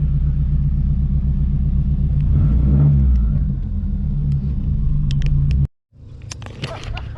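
A rear-wheel-drive Subaru on a high-speed radar run, its engine roaring loud and close in a strong, sustained pull with rising revs, then cutting off abruptly before more engine noise and clicks return.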